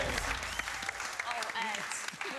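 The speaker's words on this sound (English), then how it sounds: "Oh, everyone give Edward a massive round of applause." A game-show audience applauding, with continuous dense clapping and some cheering, moderately loud throughout, with voices mixed in.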